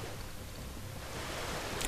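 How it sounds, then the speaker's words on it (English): Loud waterfall ambience from a StarCraft II match rushes as a constant, dense wash of falling water, steady and unbroken, with no voices over it. "There's a very loud waterfall."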